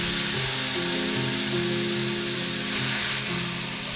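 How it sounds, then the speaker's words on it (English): Loud, steady sizzling of steak searing in a hot cast iron pan, a dense close hiss that swells briefly near the end. "And you want to see and hear that sizzle"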